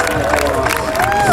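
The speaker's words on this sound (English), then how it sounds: "A big round of applause for Brian Benjamin." A crowd at a Saint Patrick's Day parade in Sunnyside, Queens, New York City cheers and applauds in a short, loud, dense burst of mixed voices and clapping.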